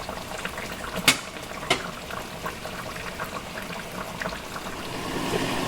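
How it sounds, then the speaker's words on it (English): Oxtails simmer in a pot of water for Jamaican oxtail stew, giving a soft, continuous bubbling with a few sharper pops and clicks, heard close and alone. "so we'll just let it continue to simmer"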